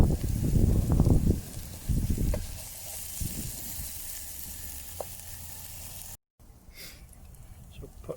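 Onions, a crushed skin-on garlic clove and dried mushrooms hit a hot pan with loud crackling sizzle bursts, settling into a softer steady frying hiss while someone talks.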